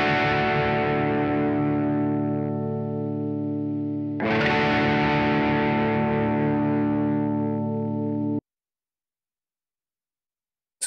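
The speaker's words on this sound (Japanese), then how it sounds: "歪み、オーバードライブですね。" Electric guitar through overdrive distortion at standard A=440 Hz tuning, two loud sustained chords each ringing for about four seconds, then silence with a tiny click at the end.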